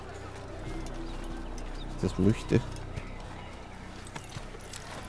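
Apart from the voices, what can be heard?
horse galloping in Assassin's Creed video game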